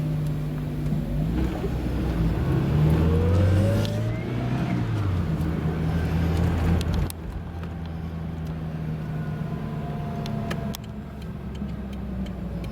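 An open-top Daihatsu Copen pulling away and driving down a country road on a sunny day, the engine revving up through gears with rising pitch, then settling into a steady cruising hum with wind noise.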